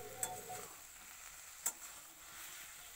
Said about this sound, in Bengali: ব্রকলি দিয়ে নাড়াচাড়া করে ভালো করে মিশিয়ে দেব।